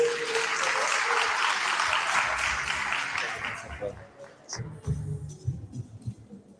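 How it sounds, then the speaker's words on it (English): Audience applause for a ward councillor at a Gugulethu business workshop, a dense steady clapping that thins out after a few seconds into scattered claps and low murmuring voices. "Let's give a warm round of applause."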